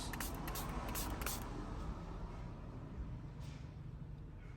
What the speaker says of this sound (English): spray water on this